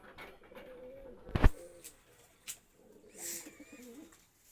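Rajshahi Giribaz room-flying pigeons coo softly indoors in a low, steady throaty murmur, broken by a single sharp click near the middle and a brief higher chirp toward the end.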